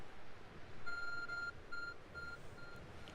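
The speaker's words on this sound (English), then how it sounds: "Your arc phone is beeping." In the video game Pokémon Legends: Arceus, the Arc Phone gives a series of short electronic beeps, a few tones repeating at a steady rhythm over faint background ambience.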